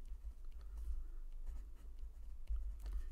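Pen writing a math proof by hand on paper, faint close scratching strokes in short irregular bursts, quiet and steady with no talk.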